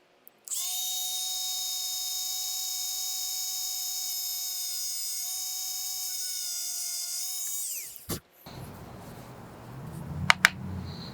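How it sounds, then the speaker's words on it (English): A Dremel rotary tool whines at a high, steady pitch for about seven seconds while grinding the line tie of a handmade pike lure, then winds down. Faint handling noises and clicks follow. "I'm going to get out the Dremel now, and that's going to be the next process."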